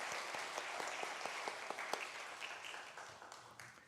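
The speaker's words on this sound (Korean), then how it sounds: "우리 감사의 박수 다시 한번 해주시겠습니까?" Church congregation on Easter Sunday clapping in thanks after the choir's hymn, a soft, fairly distant round of applause with some distinct claps early on that gradually fades.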